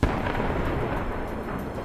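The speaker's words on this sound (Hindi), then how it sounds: "रॉकेट के धमाके रह रहकर शहर में" A rocket blast strikes in Mariupol near the Azovstal steel plant, a sharp loud onset followed by a dense, rumbling roar that sustains without letup.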